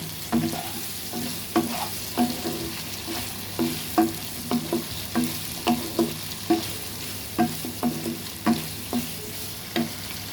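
Carrots stir-fry in a pan for restaurant-style chicken fried rice: a constant close sizzle under a regular rhythm of sharp spatula strikes and scrapes, about two per second, with no voices.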